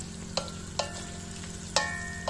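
Meat for sac kavurma frying on a sac pan over half-low heat, sizzling steadily while a utensil scrapes and stirs it in three sharp strokes.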